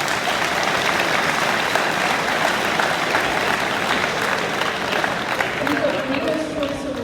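A school awards day audience claps for the students, a dense, sustained round of applause from the crowd that stays loud for several seconds.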